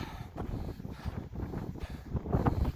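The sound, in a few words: strong wind high on a mountain in winter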